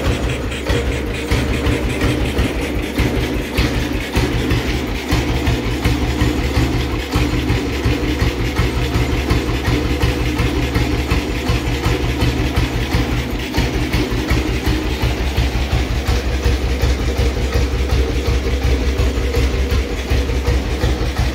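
A 1941 BSA M21 motorcycle engine gives a loud, steady rumble with a rapid, even rhythmic chugging throughout, continuous and close, with no talking.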